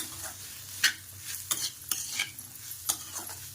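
Potatoes are stirred in a pan with red chili powder and salt in a home kitchen, giving scattered scraping clicks and soft sizzling at close range over a low steady hum.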